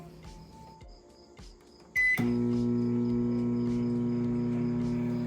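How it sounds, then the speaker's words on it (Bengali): A few clicks and a beep, then a microwave oven cooking potato fries starts up with a loud, steady hum and whir that continues without a break. "এবার বাটিটিকে আমি মাইক্রো ওভেনে আবার দিয়ে দেব"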